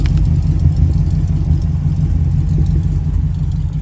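A 1950 Oldsmobile 88 with the 303 Rocket V8 and dual exhaust idles close by, a loud, steady, deep burbling rumble with even low pulses and no talk over it.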